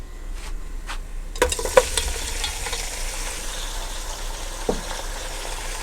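Boiled mutton frying with fried onions in a pan for goat salan, steady sizzle with a few sharp stirring clinks and scrapes, no talk.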